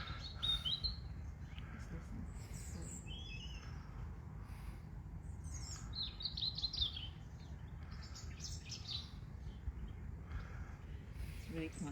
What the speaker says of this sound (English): Sun's shining, the sky's blue, and the birds are singing.